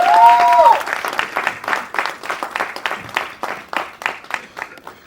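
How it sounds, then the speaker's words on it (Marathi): Loud audience applause fills a trailer launch event for the Marathi film Man Yedyagat Zala, a dense wash of many hands clapping that swells, then continues in uneven pulses with a brief tone near the start. "एकदा जोरदार टाळ्या झाल्या पाहिजे."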